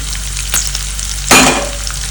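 Chopped onion and garlic fry loudly in a pan, a dense, continuous sizzle broken by two scraping bursts of stirring, the second stronger and longer.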